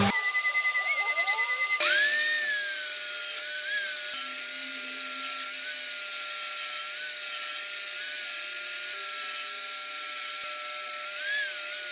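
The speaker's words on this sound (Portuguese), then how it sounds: "Eu vou lixar essa madeira, as laterais dela, para depois me facilitar." A power tool sands the sides of a thin wooden strip, a steady high whirring grind that runs unbroken for the whole stretch, close and fairly loud with small shifts in pitch as the tool moves.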